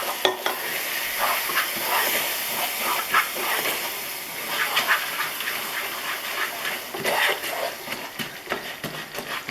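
Hot caramelizing sugar for flan sizzles and hisses steadily after water is added, with bubbling, steam and stirring noises close by.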